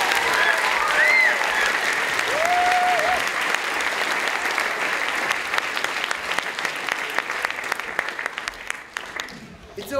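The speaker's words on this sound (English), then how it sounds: "Let's give them a clap." A theatre audience gives sustained clapping for the backstage crew, loud and continuous, with a couple of brief whoops early on before it thins toward the end.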